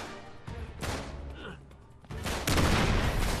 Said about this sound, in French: j'ai utilisé une balle du Magnum